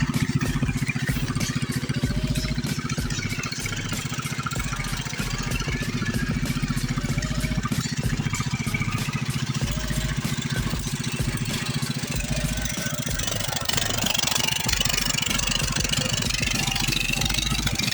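An old red Murray engine with no muffler runs steadily for the whole stretch, giving a loud, continuous, raw idling rumble with rapid close-up firing pulses.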